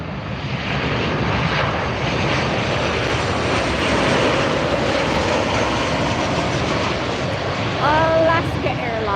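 An Alaska Airlines jet arriving at LAX gives a steady, loud engine roar that fills the whole stretch. A brief squealing whine rises near the end.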